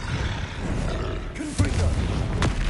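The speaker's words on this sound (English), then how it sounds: "Either I'll have to fight that troll, or avoid it altogether" A troll roars in a Harry Potter video game, a deep rumbling growl laid over dense game noise, loud and close.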